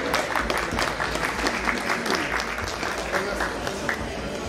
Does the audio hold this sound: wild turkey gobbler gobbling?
no